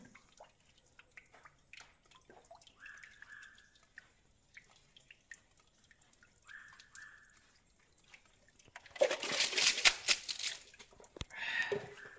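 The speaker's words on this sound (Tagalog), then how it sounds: "Sa tulo lang na to, galing sa taas." Water from a mountain spring drips steadily in soft, irregular drops. A burst of louder splashing, rushing water follows near the end.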